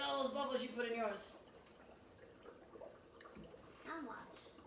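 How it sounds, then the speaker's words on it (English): Dry ice bubbles and fizzes faintly in water, a soft, continuous gurgle that sits low and quiet behind brief voices at the start. "Oh, look at all those bubbles you put in yours."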